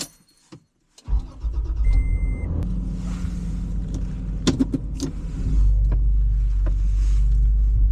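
After a few faint clicks and a brief silence, a car drives along the road toward town with a steady, close engine rumble and road noise that deepens midway.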